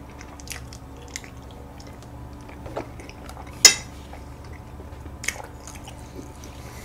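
Faint, sparse chewing of a mugwort rice cake filled with red bean and coated in soybean powder, with a few soft bites and occasional light clinks of cutlery or dishes.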